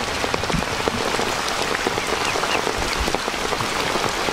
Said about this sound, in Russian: Ай да дождь.